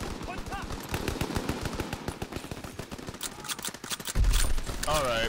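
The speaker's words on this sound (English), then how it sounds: "this PPSH is pretty good. Good weapon." A PPSh submachine gun fires rapid, dense bursts in Call of Duty WWII, near and loud, with a short spoken word partway through and a heavy blast near the end.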